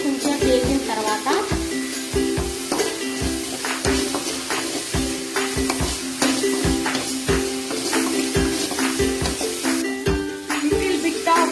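Carrot, onion and tomato fry in a pan with a loud, dense sizzle, with frequent sharp scraping and stirring taps from a spatula throughout.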